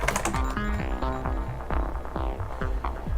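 Typing on a white Rosewill RK-9000BRI mechanical keyboard with WASD custom keycaps, close up. Steady, quick keystrokes click over a constant tonal hum in the background, with no voices.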